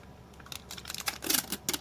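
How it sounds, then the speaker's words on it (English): Plastic tape crackles and snaps in quick irregular bursts as it is pressed onto a laptop's plastic chassis, close and fairly quiet, getting louder toward the end. "So I'm actually only taping on the plastic chassis."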